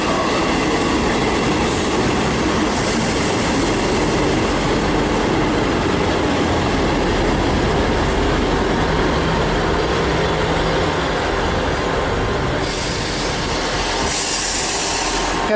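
A Class 158 diesel train pulls into Bath Spa station on the Great Western Main Line, a loud, sustained rumble with clattering wheels and brief high squeals near the end, heard up close without speech.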